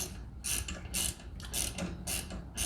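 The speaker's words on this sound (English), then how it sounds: "We're taking the flywheel off right now. I got a puller on there" A puller is ratcheted to remove the flywheel from a 1977 Honda Odyssey FL250 two-stroke engine, giving rhythmic metallic clicking strokes about every half second, close and fairly loud.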